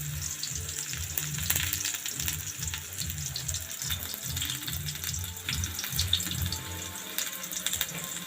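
Garlic and onion fry in a pan, a steady close sizzle with a low bubbling, sputtering texture underneath, continuous and without speech.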